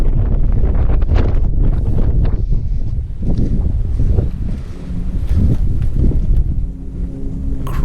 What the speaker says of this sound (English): Crazy wind.